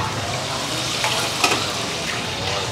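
Beef sizzling and being stirred in a frying pan for banh mi, a steady loud crackling hiss with small scraping bumps throughout.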